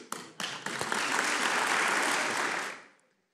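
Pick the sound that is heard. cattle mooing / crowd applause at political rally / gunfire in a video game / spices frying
crowd applause at political rally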